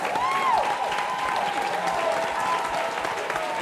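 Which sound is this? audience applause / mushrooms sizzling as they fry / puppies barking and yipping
audience applause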